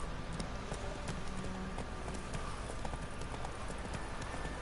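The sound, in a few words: horse galloping in the video game The Witcher 3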